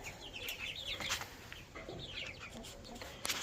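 Chicks and turkey poults peep and chirp repeatedly in a quiet farmyard, with occasional clucks and light rustling, fairly faint and continuous.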